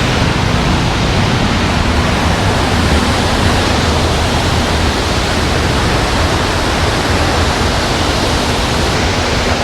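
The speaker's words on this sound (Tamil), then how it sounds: "தண்ணி நம்ம மேலே அப்படி தெரிக்குதுங்க." Rushing water from the Aliyar canal, fed by hill streams from Top Slip, roars and splashes close by as a loud, steady broadband wash with no voices over it.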